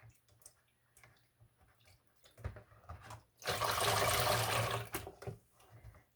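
Skeins of yak and silk blend yarn are pushed down into soapy water in a sink, giving a burst of sloshing, bubbling water lasting about a second and a half, with quieter drips and handling sounds before and after.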